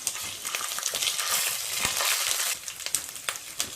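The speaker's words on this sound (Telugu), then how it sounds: "అల్లం వెల్లుల్లి పేస్ట్ వేసుకొని వేయించుకోవాలి." Ginger garlic paste fries in a pan of hot oil over curry leaves, a dense crackling sizzle with scraping stirs breaking through, steady and close, with no talking.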